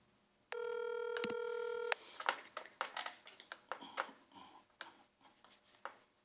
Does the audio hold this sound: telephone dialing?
yes